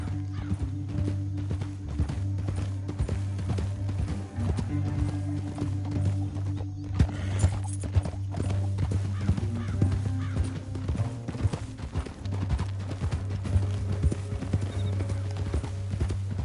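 Steady clip-clop of horse hooves trotting close by in the video game Red Dead Redemption 2, over a constant low hum, with a faint whinny partway through.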